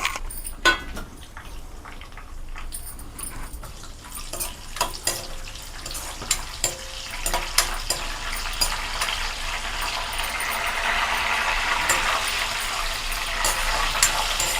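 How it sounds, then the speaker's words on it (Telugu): Mustard seeds, cumin, garlic, dried red chillies and curry leaves spluttering in hot oil as a tempering for cauliflower curry: a steady sizzle with sharp scattered pops and crackles that thickens and grows louder toward the end, with no talking. "ఇదిగోండి, తాలింపు చూసారా ఎలా ఎగిందో, కరివేపాకు అన్నీ ఎగిపోయినాయి కదండి."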